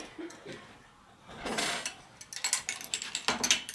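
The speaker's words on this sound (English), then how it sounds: "And the bolt is falling down in place." A bolt drops into place inside a Ballistic 600 XL bike fork with quiet metallic clinks and rattles. A soft scrape comes first, then a quick run of small knocks close by.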